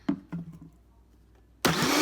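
A blender whirs into a loud, steady roar as it starts up to mix greens and water for a smoothie at home, preceded by a few quieter clunks and knocks.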